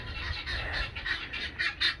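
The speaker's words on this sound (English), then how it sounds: "those guineas are loud" Guinea fowl call loudly in quick repeated harsh squawks, several bursts a short distance away over a quiet rural background.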